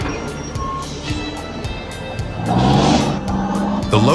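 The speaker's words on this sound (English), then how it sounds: "Look at the wheels spinning at high speed, creating intense friction with the road, emitting scorching smoke." Wheels of a heavily loaded log truck spinning on a steep slope, an engine strain with grinding friction that swells louder toward the end, no voices.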